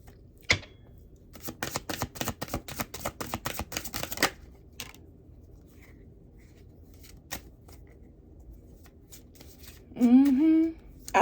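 A deck of cards being shuffled, a dense run of quick riffling clicks for about four seconds, then a few scattered taps, followed by a short voice-like sound near the end.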